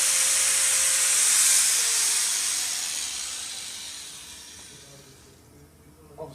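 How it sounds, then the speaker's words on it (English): A 4-inch, 900-watt Bosch angle grinder hisses at high speed and then spins down, its whine fading steadily over several seconds until a small knock at the end. "next item we've got up is a 4-inch 900 watt Bosch grinder. Next thing, turn the machine on"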